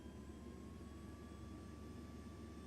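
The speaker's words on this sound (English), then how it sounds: "The Vision Jet has a single jet engine, which is pretty cool." The single jet engine of a Vision Jet S50 in X-Plane 12 hums as a steady low roar, overlaid with thin sustained turbine whines, faint and unchanging.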